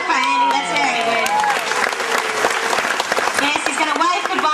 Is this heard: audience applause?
yes